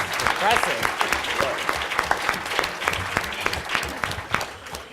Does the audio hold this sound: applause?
yes